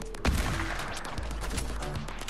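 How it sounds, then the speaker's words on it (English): A hunting rifle shot in the video game Fortnite, a sharp loud crack near the start followed by further gunfire and busy game noise. "Hunting rifle, headshot."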